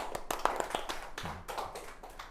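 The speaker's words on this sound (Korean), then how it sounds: "우석이한테 박수!" A few people in a school chemistry classroom give brief, scattered applause: a quick run of separate claps for about two seconds, fairly faint and without speech.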